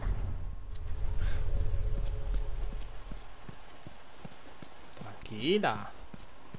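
Horse hooves clip-clop steadily as a horse is led through a gate in The Last of Us Remastered on PS4, with a short whinny-like call near the end and someone talking over the hooves.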